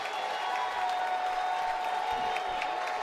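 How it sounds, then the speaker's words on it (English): Fans at an NCAA regional college baseball game between Wake Forest and Tennessee applaud steadily, a sustained wall of clapping and crowd noise from the stands, fairly loud throughout. "This crowd is fully charged with Marin in the box"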